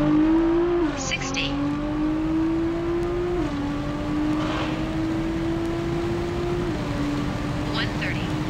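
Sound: Nissan R35 GTR with big turbos accelerating 60 to 130

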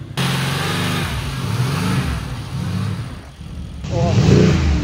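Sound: Mercedes car engine revving

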